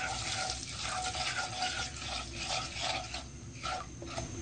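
Spoon stirring a dry mix of chaat masala, turmeric powder and salt for spicy Kathiyawadi garlic potatoes, a steady close scraping and rubbing with brief louder scrapes near the end, no talk.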